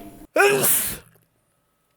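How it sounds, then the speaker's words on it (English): A single sharp sneeze, close and loud, with a quick breathy intake and burst, followed by silence. "I had to sneeze"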